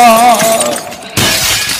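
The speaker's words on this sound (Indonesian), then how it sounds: "Pecah piring jemaat." A plate shatters in a single sharp crash, followed by a brief scatter of breaking fragments, loud and close.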